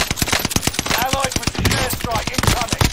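Rapid gunfire in a multiplayer shooter, aimed at an enemy bomber, crackles in quick sharp bursts with tonal game effects and a brief voice mixed in.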